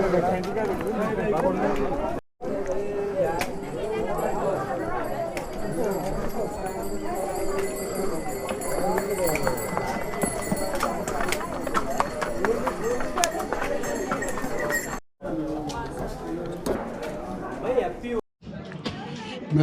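Horses, ponies and mules clip-clop steadily along a shared mountain path on the pilgrimage route to Yamunotri in Uttarakhand, with continuous hoofbeats under people chatting nearby.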